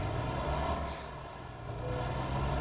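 A Volvo semi truck engine in American Truck Simulator drones steadily and loudly, with a low rumble and a hissing, airy layer that dips slightly midway, without any voices.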